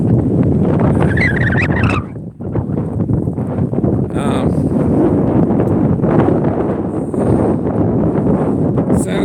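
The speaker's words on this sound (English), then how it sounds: "I can't do anything about the wind." Strong wind buffets the microphone on an exposed hilltop, a loud continuous roar with gusts that swell and briefly drop around the two-second mark.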